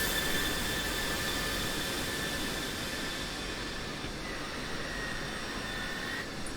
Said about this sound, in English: so I'm just going to start taxiing